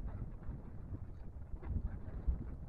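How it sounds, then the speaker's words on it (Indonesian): Strong gusty wind buffets the microphone outdoors at a fishing spot during ultralight micro jig casting, a steady low rumble with louder gusts throughout and no talking. "Anginnya agak kencang."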